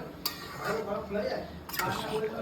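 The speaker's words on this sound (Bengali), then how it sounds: "সুন্দরভাবে কিন্তু এবার নাড়াড়ি চলছে" A spoon stirs paneer curry in a metal pot, giving a few sharp clinks and scrapes against the rim over soft bubbling, with a voice talking quietly underneath.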